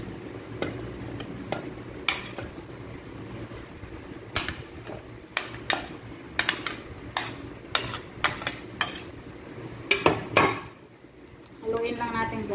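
Cucumber, salted egg, onion and tomato salad stirred in a bowl, with a series of sharp utensil clinks and scrapes against the bowl repeating over steady kitchen background noise.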